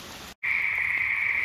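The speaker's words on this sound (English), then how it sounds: "it's the sound of thousands of Sierran tree frogs calling." Thousands of Sierran tree frogs call together in the Santa Cruz Mountains, forming a loud, continuous, high-pitched chorus that surges in after a brief silent gap and holds steady with no voices.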